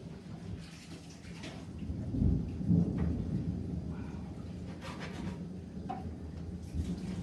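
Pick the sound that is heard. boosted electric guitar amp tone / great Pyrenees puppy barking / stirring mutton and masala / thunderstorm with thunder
thunderstorm with thunder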